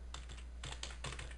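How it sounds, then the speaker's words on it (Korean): Quick bursts of keystrokes on a computer keyboard clatter in short clusters with brief pauses, close and fairly quiet over a low steady hum. "키보드로 입력해도"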